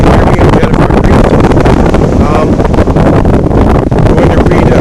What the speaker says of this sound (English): Now it's freezing cold and windy